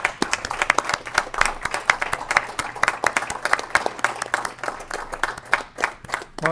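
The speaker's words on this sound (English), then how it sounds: "give them a round of applause and make them feel welcome" A legislative committee room in the state Capitol claps to welcome visiting FFA members at an agriculture hearing, a steady patter of scattered hand claps from a modest group with a few sharper individual claps standing out.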